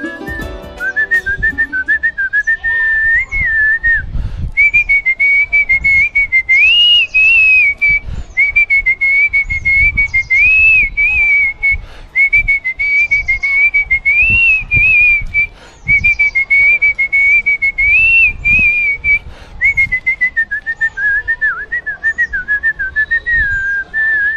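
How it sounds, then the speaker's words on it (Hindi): A man whistles a melody steadily and loudly, phrase after phrase with short breaks, a clear tune carried alone with faint background noise. "सीटी में गाने पेश कोई भी नहीं करता, यह नया फन मैं पेश करूंगा"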